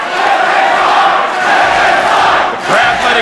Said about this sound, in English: The crowd letting it be known what they want.